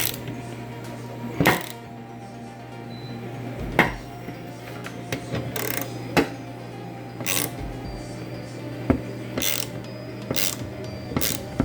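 Ratchet wrench clicking as it turns bolts on a Porsche Cayenne passenger-side window regulator, bursts of ratcheting separated by sharp metallic clinks, close and fairly quiet, with no voices.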